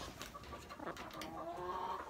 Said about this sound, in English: So after a cup of coffee, I come out to my chickens.